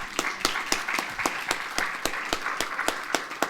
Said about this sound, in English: Please clap your hands for Ms.